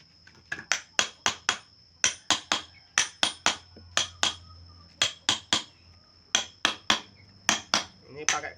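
An iron bar pounds concrete into a Spanish-motif roof tile mold, giving sharp, ringing metallic strikes in quick bursts of three or four with short pauses between, loud and close, with no talk.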